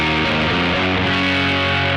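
Electric guitar through a Pigtronix Disnortion Micro overdrive and fuzz pedal on its muff setting: loud, thick sustained distorted chords with a couple of changes, dense and saturated, played alone.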